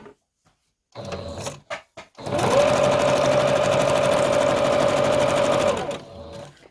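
A sewing machine runs a straight stitch through fabric, with lighter-coloured thread, for a fabric collage. It starts with a few short bursts and then hums steadily for about three and a half seconds, close and loud.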